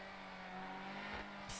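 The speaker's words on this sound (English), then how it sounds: "It's like a classic sport car with a really cool sound" The engine of the Ardent, a classic sports car in GTA Online, hums steadily at a moderate level with a low, even drone throughout the short stretch.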